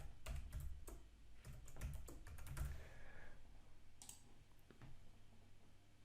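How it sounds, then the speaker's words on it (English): Clicky bursts of typing on a computer keyboard, a few quick runs of keystrokes separated by short pauses, close and fairly quiet with no talk. "let's see if I can type"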